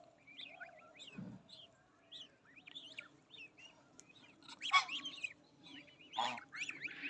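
Ducklings give high, thin chirps and peeps in quick scattered bursts, some overlapping, with a few louder calls near the end against a quiet background.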